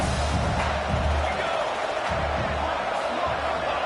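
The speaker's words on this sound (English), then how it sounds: "Home crowd trying to make a difference on 4th down." A stadium crowd roars continuously in a PS5 college football game as the home fans push on fourth down, a dense, steady wash of noise with a faint voice under it.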